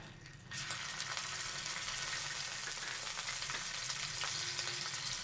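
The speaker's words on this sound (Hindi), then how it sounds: "60 ग्राम हमने तेल डाले हैं। 1 चम्मच अदरक लहसुन है।" Ginger garlic paste hits hot oil and bursts into loud, continuous sizzling and crackling that holds steady throughout.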